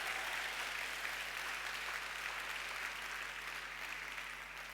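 A church congregation applauds at a Sunday service, a dense, steady wash of clapping that fills the room and fades slightly toward the end.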